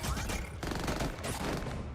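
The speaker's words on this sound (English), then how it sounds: "once gunfire breaks out" A burst of rapid gunfire fills the scene, loud and continuous with sharp cracks layered over a dense rumbling background.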